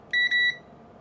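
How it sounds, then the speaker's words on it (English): A multimeter in continuity mode beeping as its two leads touch, giving a couple of short, clear high-pitched electronic tones in quick succession, close and alone against quiet background. "a multimeter in continuity mode. That's the mode where it beeps when the 2 leads touch each other"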